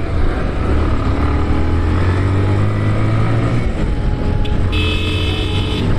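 A vehicle engine runs with a steady low idle throughout, loud and close, with a faint higher buzz joining near the end.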